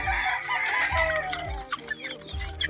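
Gamefowl hens and roosters cluck busily close by, with repeated low clucks and short calls overlapping in a lively farm flock.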